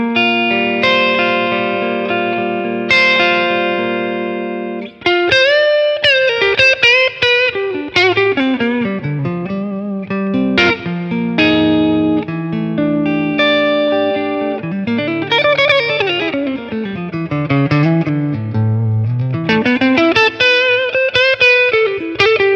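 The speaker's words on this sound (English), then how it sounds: "Let's add some reverb to it." A distorted electric guitar plays melodic lines and chords through a Matchless Laurel Canyon amp, with reverb trailing behind each note and no voices.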